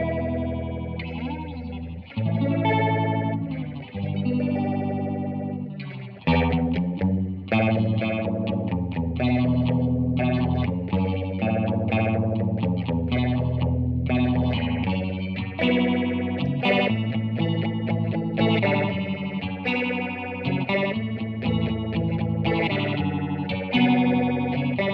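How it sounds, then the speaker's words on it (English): Electric guitar through a Warm Audio Mutation Phasor II set to high feedback, rate and depth, giving a fast, swirling, seasick phasing over chords and melodic runs, loud and continuous for the whole stretch with no talking. "this should give us a faster, more seasick-esque phasing."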